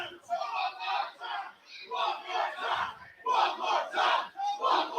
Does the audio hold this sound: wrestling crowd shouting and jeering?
yes